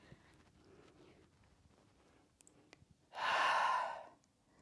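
A single strong, forceful exhale during a Pilates strength workout with dumbbells, a breathy rush lasting about a second that stands out loud and close after quieter shuffling.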